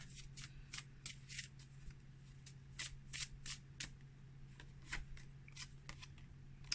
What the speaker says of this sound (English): Let's pull one of these cards.